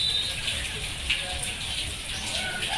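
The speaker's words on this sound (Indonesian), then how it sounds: "Masih hujan deras soalnya." Heavy rain pours down in a steady, dense hiss with no breaks, and a voice is faintly present under the downpour.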